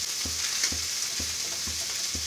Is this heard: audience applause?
no